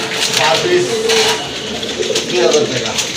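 Fancy pigeons coo in soft repeated rolling calls close by, several throaty bursts overlapping amid general coop bustle and a faint clink, with people talking in the background.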